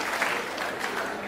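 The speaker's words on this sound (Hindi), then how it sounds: "चलिए एक बार पूरा सदन ताली बजा के मुझे आशीर्वाद दे।" An audience at a comedy stage show claps together in a brief, dense burst of applause, close and lively.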